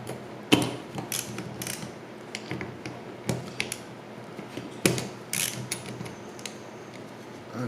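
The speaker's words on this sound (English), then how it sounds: "I'm going to unbolt these bolts" Bolts being loosened on a Warn XD9000I winch, with a series of close, sharp ratchet clicks and metallic creaks in irregular bursts.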